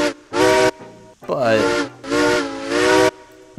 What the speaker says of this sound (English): I actually really like that whistle. It is rather loud